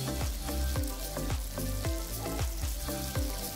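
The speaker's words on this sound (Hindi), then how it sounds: "तेल गरम हो गया है, तेल को हम बहुत तेज गरम नहीं करेंगे और एक एक करके हम क्यूब्स को फ्राई होने के लिए डालेंगे" Paneer cubes fry in moderately hot oil for chilli paneer, a loud, continuous close sizzle with a steady rhythm of spattering pops throughout.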